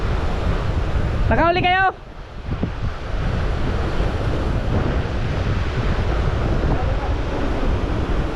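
Strong sea waves and wind roar continuously around a boat at sea, a dense steady rush, with one voice calling out briefly near the start.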